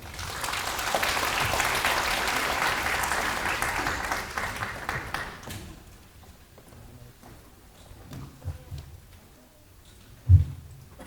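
Audience applause at a residents' briefing on a redevelopment plan, steady and broad for about five seconds before fading into room noise with a few scattered knocks.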